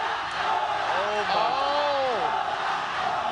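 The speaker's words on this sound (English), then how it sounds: "That's a crowd." A large arena crowd at a Mobile Legends esports playoff match cheers and roars steadily, a dense wash of voices with whoops rising through the middle, while a caster's voice talks over it.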